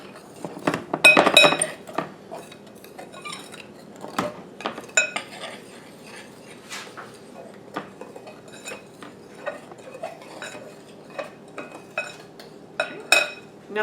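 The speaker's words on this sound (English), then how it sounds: "now we're going to mix all this up. Just our flour and sugar." Flour and sugar get mixed in a bowl for a blackberry crumble, with a spoon or fork clinking and scraping against the dish in an irregular busy rhythm, loudest early on, then lighter taps continuing, close up with no speech.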